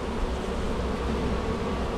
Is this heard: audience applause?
no